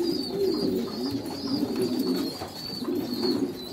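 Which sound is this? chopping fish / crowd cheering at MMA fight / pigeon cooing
pigeon cooing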